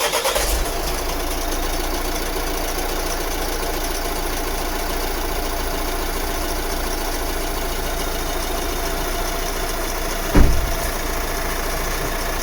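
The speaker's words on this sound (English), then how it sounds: "I'm just going to quickly start the engine now" A Vauxhall Vivaro van's engine cranks briefly and catches, then settles into a steady, slightly knocking diesel idle close by, with a short clunk near the end; no talking.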